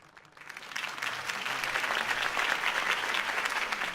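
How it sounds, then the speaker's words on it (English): Crowd applause greets Harvey Dent's campaign speech in the Batman Telltale game, rising quickly from a quiet start into a dense, steady wash of clapping that holds for several seconds. "If only Mr. Wayne, my campaign's largest backer, could have heard that applause"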